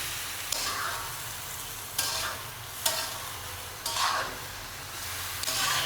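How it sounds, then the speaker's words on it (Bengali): Beef pieces frying in a pan for a Bengali beef bhuna with jackfruit seeds, with a steady sizzle and periodic scraping stirs roughly every second or two, close and moderately loud with no talking. "এইভাবেই গরু মাংসটাকে ভাজা ভাজা করা হচ্ছে"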